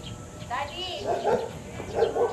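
A dog barks a few times in short bursts, somewhat distant, mixed with background voices.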